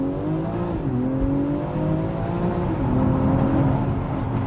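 A BMW X4M Competition's 510 bhp six-cylinder engine pulls hard through the gears, a steady droning rise in pitch with quick dips at the shifts, heard from inside the cabin without talk.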